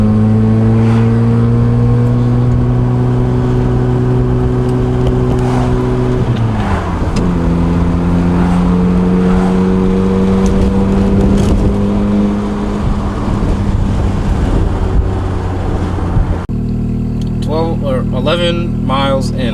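A car engine that idles unevenly once warm rises and falls in pitch as it revs while driving laps, loud and close, with a tone sweep midway and a sharper change near the end; a person talks over it.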